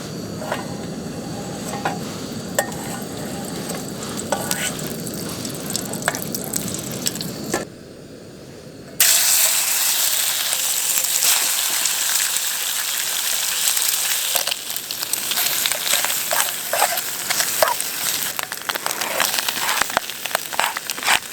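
Maple bacon sizzles in a pan at a snowy mountain campsite in winter at -9°C. The frying is a steady, soft crackle with scattered pops, and a brief quieter dip is followed by a brighter, louder hiss.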